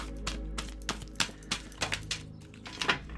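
Tarot cards being shuffled by hand in a spread reading, a run of crisp irregular riffling clicks and soft slaps, fairly close and quiet over a low steady hum, with no voices.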